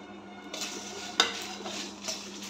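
Cumin seeds crackle and splutter in hot mustard oil for a Bengali-style mango oil pickle, with soft frying hiss, a sharp pan clink and light stirring scrapes close by.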